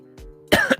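A person gives a sharp cough followed by a second short cough burst, close and fairly loud, with a faint steady hum underneath.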